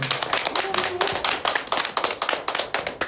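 A small audience at a literary gathering claps briefly, a handful of hands producing distinct, fairly close claps in a loose, uneven rhythm with no talk over them.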